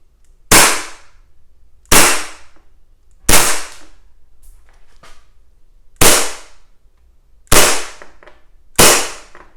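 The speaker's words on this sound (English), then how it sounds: "I chrono the gun with a .32 gram BB to kind of see how hot it would shoot" Six sharp, loud shots from an ICS Hi-Capa Challenger airsoft gas pistol firing .32 gram BBs, spaced about every second and a half, each with a short decaying tail, no talk.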